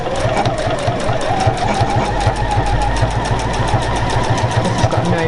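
Juki HZL-NX7 sewing machine stitching through fabric, a fast steady mechanical chatter of needle strokes over a motor hum, loud and close, with no talk.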